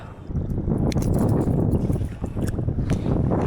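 Steady wind gusting over a river in Sweden during a fishing trip, a continuous broadband rush with buffeting against the microphone, loud and close throughout, no talking.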